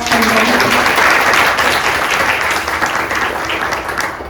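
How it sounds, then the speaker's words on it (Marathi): An audience gives loud, steady applause for musicians who played tabla and harmonium at a Guru Vandana baithak gathering. The clapping is dense and sustained, easing slightly toward the end. "तर एकदा जोरदार टाळ्या."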